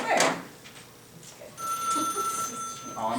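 A telephone rings in a classroom as a steady, sustained electronic tone of moderate loudness that starts partway through, with brief voices and room noise around it.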